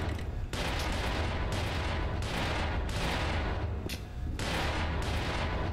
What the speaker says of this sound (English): so let's fire the rocket.